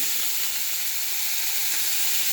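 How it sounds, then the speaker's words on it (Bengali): Potatoes fry in hot oil with panch phoron, giving a close, steady, loud sizzle that hisses evenly without pause. "পাঁচ ফোড়ন দিয়েছি, দিয়ে আলুটাকে ভাজছি"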